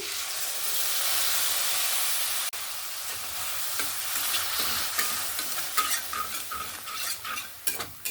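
Beaten sour yogurt stirred into fried gram flour in a pan over a low gas flame for a spring onion dish, a loud steady hiss at first, then quieter sizzling with a run of quick spoon scrapes and taps, close up.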